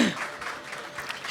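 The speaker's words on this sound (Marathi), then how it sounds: "मला असं वाटतं यांच्याकरता टाळ्या व्हायलाच पाहिजेत." Audience applause in a hall at a classical vocal music event honouring singer Mahesh Kulkarni, a dense wash of clapping hands, fairly near and steady, fading slightly in the middle before swelling again.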